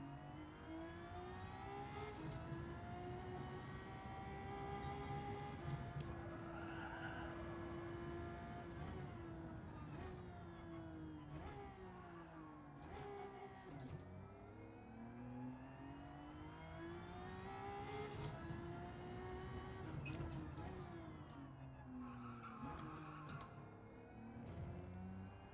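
Race car engine in Gran Turismo 7, revving loudly and continuously with rising and falling pitch through gear shifts, steady and close throughout, with no talk.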